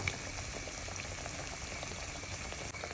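Ripe jackfruit pieces fry in coconut oil with a steady, soft, continuous hiss and bubbling sizzle that stays even and uninterrupted, with no voices.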